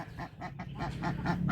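Duck or goose honking repeatedly at a pond in steady nasal calls, close and fairly loud, with no talking over them.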